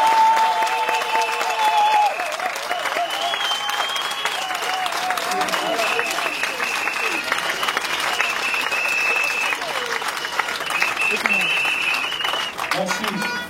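Congress delegates at a UDPS party congress in the DR Congo give a long ovation: dense, sustained clapping from a large crowd continues for the whole stretch, with a voice speaking over it.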